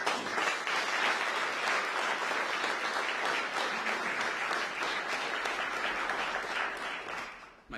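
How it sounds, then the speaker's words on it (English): An audience at a San Francisco mayoral press briefing breaks into steady, dense applause that holds for several seconds before tapering off at the end. "you better get an applause after that one"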